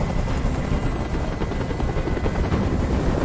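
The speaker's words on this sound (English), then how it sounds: "Tell that helicopter to get out of here!" A helicopter hovers in the video game Detroit: Become Human, its steady rotor chop and turbine roar filling the scene loudly and continuously with no speech.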